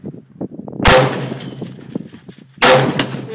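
Two loud rifle shots about two seconds apart from a Stag Arms AR-15 with open sights, fired at a plinker target 100 yards off, each a sharp crack with a short ringing tail over quiet outdoor background.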